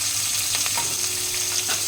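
Green chilies dropped into hot oil already seasoned with fenugreek and asafoetida, hissing in a steady, close, continuous sizzle with faint stirring scrapes, cooking a Mehsana-style green onion and potato curry.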